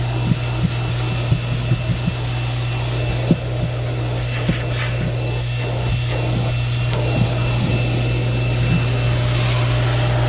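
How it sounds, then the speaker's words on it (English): A Sweep O vac central vacuum system runs with a steady, droning hum, while occasional light clicks and knocks sound nearby. "let's go down here where the vacuum cleaner is"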